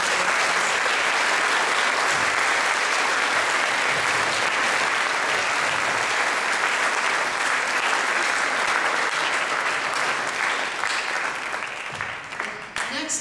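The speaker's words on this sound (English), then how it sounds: "So we have a round of applause for all of you." A school assembly audience gives a sustained round of applause for students, dense steady clapping filling the hall throughout and thinning slightly near the end.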